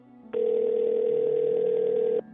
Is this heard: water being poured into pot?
no